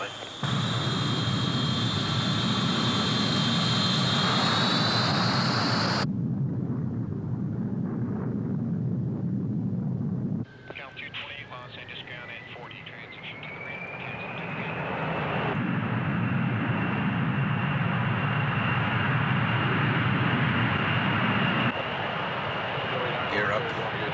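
A jet airliner powers up and takes off, with a loud, sustained engine roar and whine that shifts in pitch, and a radio voice talking over it at times.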